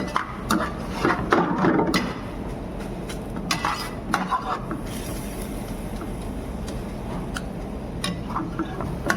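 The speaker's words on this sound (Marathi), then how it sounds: "दूध टाकून याला व्यवस्थित मिक्स करून घेऊया" Beetroot halwa with milk is stirred in a pan with close, irregular scrapes and clinks of a utensil against the metal, busier at first and then softer, over a faint low simmer.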